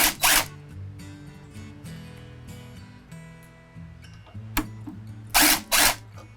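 A small electric screwdriver whirs in short bursts with clicks and handling noises, removing side-plate screws from an Xhorse Dolphin key machine during a battery replacement, close and fairly quiet.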